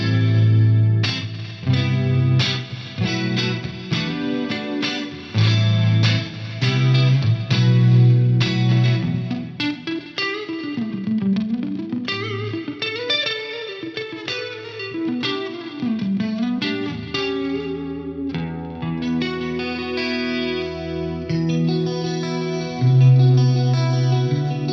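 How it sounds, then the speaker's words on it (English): Guitar through a Rocktron Chameleon 2000 rack unit with a two-voice chorus engaged, playing lush 80s-style clean chords and picked notes that ring continuously and steadily, with a shimmering wash throughout and no talking. "Let me just kick in this chorus. It's a 2-voice chorus."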